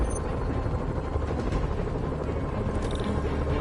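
Helicopters in a Spider-Man video game: a steady, dense rotor drone fills the scene at fairly close range, with faint voices and game sounds mixed underneath.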